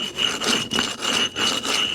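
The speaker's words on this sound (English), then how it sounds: "I just use a flat side of a stone and rub" A flat stone rubbed back and forth over a garden railway trackbed to take off high spots, making loud, steady scraping strokes in a regular rhythm of about five passes, close up with no talk.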